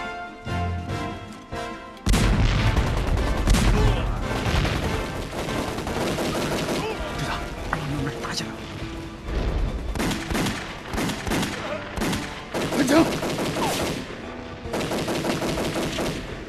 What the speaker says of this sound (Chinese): 从四号仓库方向传来枪声